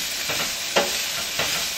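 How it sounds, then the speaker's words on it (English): Basil and oregano being stirred in a hot pan over high heat under a constant hiss of frying, with two or three soft scraping strokes standing out nearby. "quickly stirring over a high heat"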